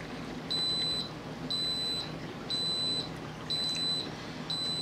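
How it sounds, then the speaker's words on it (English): A kitchen timer beeping while homemade sauerkraut is being prepared, a high electronic tone repeating in short bursts about once per second, clear over a low room hum with no speech. "All right, we got a timer going off."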